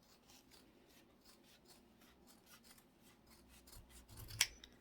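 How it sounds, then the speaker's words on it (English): Quiet, slow snipping of dull scissors struggling to cut through paper, soft rhythmic blade strokes building to one sharper snip near the end. "My scissors do not want to cut"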